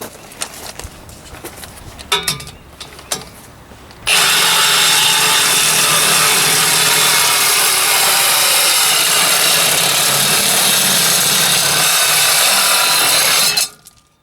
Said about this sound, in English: I'm taking the M18 FUEL Sawzall with a torch Milwaukee blade, and I'm going to cut the end of the pipe off